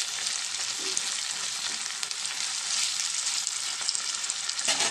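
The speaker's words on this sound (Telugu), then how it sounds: "దీంట్లో కొంచెం అల్లం వెల్లుల్లి పేస్ట్ వేద్దాం. ఇది కొంచెం పచ్చివాసన పోయేదాకా ఫ్రై చేద్దాం" Onions and ginger garlic paste frying for a curry, a bright continuous sizzle with faint stirring and occasional sharper pops, steady and close, with no one speaking.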